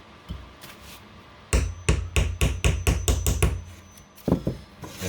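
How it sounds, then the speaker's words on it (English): A hammer gives a quick series of gentle, close taps, about nine evenly spaced knocks, driving a long shaft down into a gearbox on a workbench while assembling a Mars Rover unit. "place my shaft on top, give it a gentle tap"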